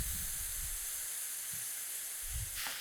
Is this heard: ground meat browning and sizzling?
yes